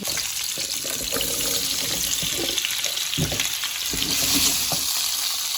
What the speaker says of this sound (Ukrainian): смажую велику кількість цибулі, моркви і оце біленьке, це корінь, оце біленьке, це корінь петрушки